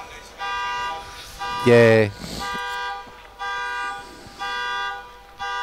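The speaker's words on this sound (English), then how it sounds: "It's a car alarm going off, and it's echoing right through this." Car alarm sounding from a distance, echoing through an indoor hall in steady repeating tonal bursts, with someone speaking briefly over it and a loud burst of talk in the middle.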